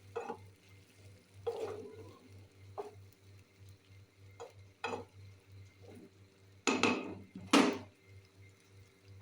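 Paneer being stirred in a pan of bubbling chilli paneer sauce, with a few scattered scraping and clattering stirs over a soft steady simmer, close and moderately loud.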